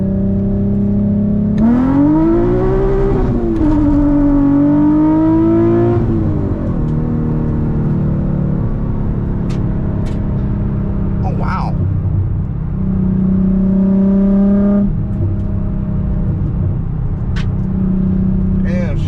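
A tuned E85 Nissan 350Z Nismo pulls in first gear, its engine note rising and falling through revs as a droning exhaust hum fills the cabin, with someone speaking over it.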